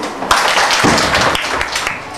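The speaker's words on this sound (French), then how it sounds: "On applaudit" A school class applauds briefly, a burst of many hands clapping at close range that keeps going for a couple of seconds with a hint of voices underneath.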